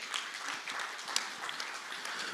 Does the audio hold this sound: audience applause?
yes